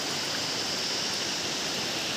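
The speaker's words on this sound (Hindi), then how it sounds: "जो नीचे हवे एक मतलब गेट के ऊपर से थोड़ा थोड़ा पानी जाते है।" Water pours over the top of a dam gate in a steady, broad hiss of rushing flow, constant and moderately loud with no breaks.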